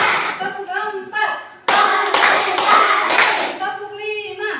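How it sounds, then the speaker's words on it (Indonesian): A group of hands claps together in a classroom, producing a burst of loud, fairly rhythmic claps that runs for about three seconds. Voices chant and talk before and after the clapping. "Tepuk 4."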